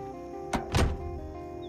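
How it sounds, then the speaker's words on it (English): Zombies bang on a door in the Project Zomboid video game: two heavy, muffled thuds close together, the second louder and longer, over a steady low background hum. "the door is being banged on pretty darn quick"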